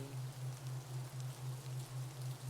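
Rain patters softly and evenly, blended with a steady, gently pulsing low tone that throbs at a regular rhythm throughout, with no voices.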